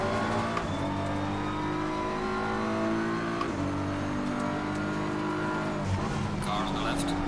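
A race car in Assetto Corsa Competizione roars past close by, a steady loud engine drone with pitch sweeps as it closes in and draws alongside.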